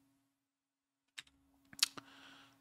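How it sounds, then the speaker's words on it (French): Several sharp, dry computer clicks sound close by in a quiet room, a sparse handful of isolated taps with a short cluster near the end. "je vais cliquer"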